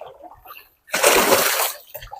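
Water is bailed out of a small boat after rain: after a quiet moment, a single close splash of poured water lasts under a second, with faint voices around it.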